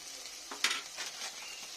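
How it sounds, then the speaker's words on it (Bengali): Turmeric and cumin powder sizzling in oil for a fish curry, a soft steady fry with a couple of brief louder stirring bursts near the middle, close by and fairly quiet. "এই আমি মশলাগুলো ভালো করে কষে নেব"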